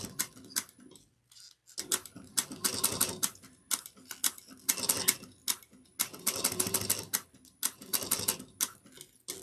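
A sewing machine stitches a fabric bucket bag in quick rattling bursts, pausing briefly between runs, close and fairly quiet.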